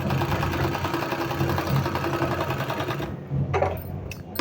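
Close, continuous whirring of a sewing machine stitching along a folded 1.5-inch strip of two-colour fabric for a palazzo pant, running steadily before cutting off abruptly near the end.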